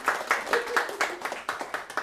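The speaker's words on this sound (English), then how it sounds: "A round of applause for you." Scattered hand claps from a small audience at a live antiques valuation event, roughly a dozen distinct claps in a loose rhythm, moderately close with a faint murmur beneath.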